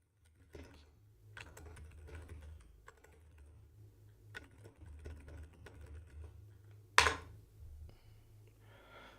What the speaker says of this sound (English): See, this is the fingers on keys I'm talking about.